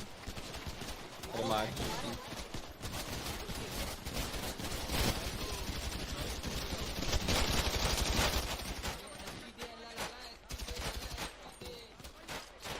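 Bursts of rapid gunfire crackle through a noisy GTA-style roleplay game mix while voices talk over it, during a police shootout.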